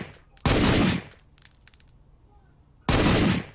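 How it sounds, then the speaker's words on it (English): Bump fire gunshots in two loud rapid bursts about half a second each, separated by a couple of seconds of quiet with faint clinks. "Bump fire."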